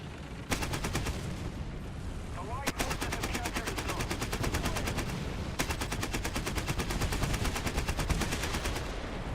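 Tank machine-gun fire in the video game War Thunder rattles in rapid sustained bursts, loud and continuous over a rumbling engine background, with a couple of heavier shots marking breaks between bursts.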